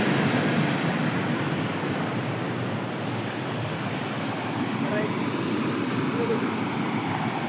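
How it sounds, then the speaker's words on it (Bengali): A rushing water current at Dossam waterfall, a dense continuous roar of flowing water that stays loud and close throughout. "এখানে জলের স্রোতটা দেখো কেমন যাচ্ছে ভাই।"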